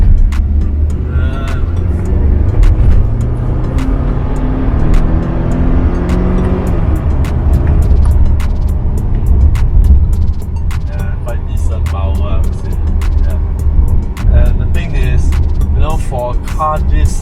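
A large German car accelerating hard in Sport Plus mode, the engine note climbing steadily and loud from inside the cabin for the whole stretch, with someone talking over it.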